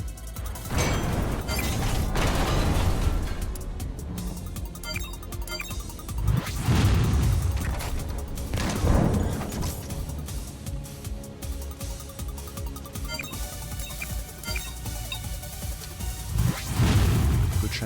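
A missile is fired and explodes in the video game Front Mission 3 remake, heard as several deep booming blasts and crashes rising out of a continuous loud game soundtrack.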